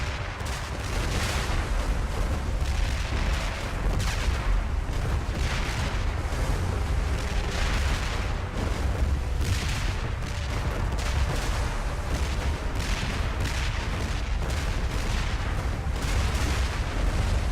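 Loud, dense barrage of booming video game cannon blasts fires in rapid succession, overlapping into a continuous roar of explosions with no talking.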